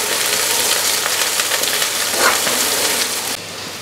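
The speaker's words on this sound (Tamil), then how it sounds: "வெங்காயம் நல்லா வதங்கணும்." Shallots and curry leaves sizzle steadily in a hot pan, giving a dense, close frying crackle that runs throughout and drops slightly near the end.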